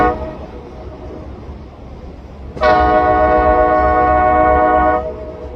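A loud, steady CP locomotive horn blares for a couple of seconds over low rumbling rail noise, then cuts off, leaving the engine's drone.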